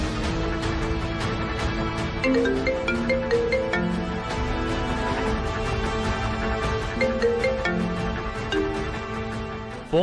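A mobile phone rings on and on without being picked up, a looping melodic ringtone with regular ticking beats repeating steadily over ten seconds at moderate volume, with no voices.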